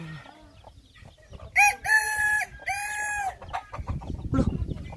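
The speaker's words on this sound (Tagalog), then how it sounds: "May tilahok." A rooster crows loudly and nearby in two long, drawn-out calls, followed by softer clucking and rustling.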